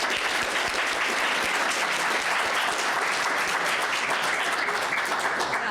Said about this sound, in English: let's give a round of applause first